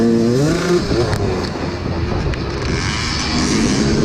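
A motocross motorcycle revs hard on a dirt track during a sprint cross-country race, its engine note rising and falling continuously up close, with wind buffeting the microphone.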